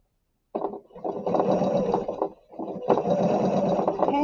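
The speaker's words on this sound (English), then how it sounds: "I overlap my stitching, and I do another back tack to knot this piece of thread here." A sewing machine stitches a back tack on a garment hem, whirring in two close bursts with a short pause between as it reverses, loud and near with no talking.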